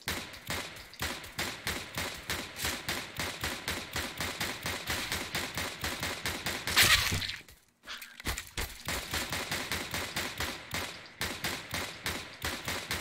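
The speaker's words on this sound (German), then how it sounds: "Ich muss ihm ins Gesicht schießen." Rapid automatic gunfire from CS:GO on an aim map, a steady stream of sharp cracks with a brief louder burst and short pause midway, loud and close.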